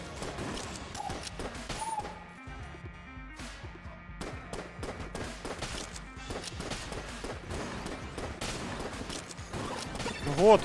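Enemy gunfire in the game Exit the Gungeon: rapid bursts of small shots and impacts over game music, fairly quiet and busy, with a louder burst near the end.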